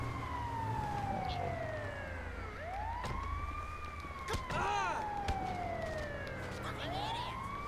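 Wailing ambulance siren in GTA V, rising and falling in long sweeping wails that dip and climb again, steady and fairly loud against a busy game background with a brief burst of other noise midway.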